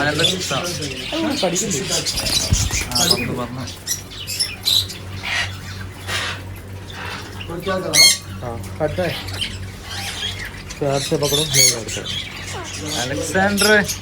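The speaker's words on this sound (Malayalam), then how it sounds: "നേപ്പാളി തത്ത" Harsh, repeated squawks and screeches from an Alexandrine parrot, loud and close, come in bursts throughout with a voice talking alongside them.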